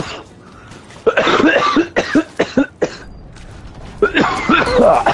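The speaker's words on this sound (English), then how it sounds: "did you get that cough?" A person coughs repeatedly in a burst of several harsh, close coughs, then a second cluster of coughing follows after a short pause, loud and near against a quiet room.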